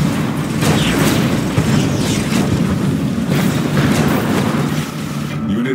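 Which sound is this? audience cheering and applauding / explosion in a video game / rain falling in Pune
explosion in a video game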